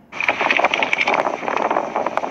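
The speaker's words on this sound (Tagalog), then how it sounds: "Lakas ng hangin, sarap naman." Strong wind blows outdoors, buffeting the microphone in a steady, loud rushing roar with no voices over it.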